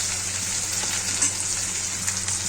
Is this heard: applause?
no